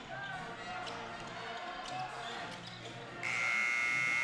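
At a high school varsity boys basketball game between Rogers and Fayetteville, a loud, steady gym buzzer sounds at the end of the first quarter. It cuts in after a stretch of bouncing balls, commentary and crowd noise.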